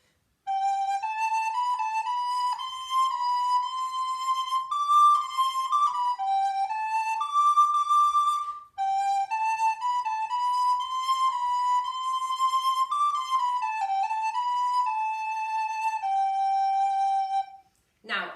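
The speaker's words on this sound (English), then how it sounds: "So let's have a listen to how the piece sounds on the recorder." A solo recorder plays a lesson piece as a clear, steady melody of sustained notes, with a short pause in the middle and a brief sound at the very end.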